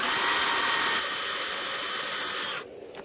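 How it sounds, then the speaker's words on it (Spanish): A power drill whirs steadily while a raised garden bed is being built, running loud and close for a couple of seconds before cutting off abruptly. "Entonces con un taladro podemos hacerlo fácilmente."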